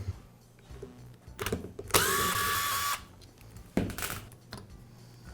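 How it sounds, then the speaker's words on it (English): Power tool work on the front gear case of a Milwaukee impact wrench. A sustained burst of whirring runs for about a second, with shorter tool bursts and scraping clicks of handling before and after. "I'll begin by removing the front gear case."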